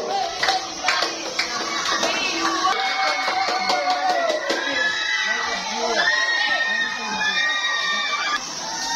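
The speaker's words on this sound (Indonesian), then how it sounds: "Tepuk tangan yang meriah untuk Zidan." A school crowd at a junior high speech contest cheers and shouts for a student speaker, with children's voices yelling over a dense, steady din and talk mixed in throughout.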